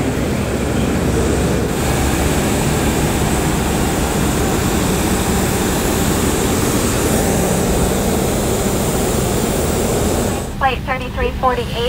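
Steady broadband roar of aircraft engines at an airport gate, loud and continuous throughout, with a voice briefly heard near the end.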